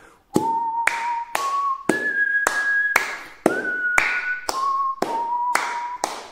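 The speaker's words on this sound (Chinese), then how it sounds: "还可以吹口哨。" A melody is whistled over steady body-percussion slaps, the pitch stepping up and then back down in a short tune, with sharp, evenly spaced smacks landing about twice a second, close and clear.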